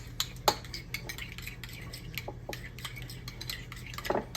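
Sweet relish being mixed into tartar sauce with a spoon, soft scattered clinks and scrapes against a bowl, quiet and close with no talk.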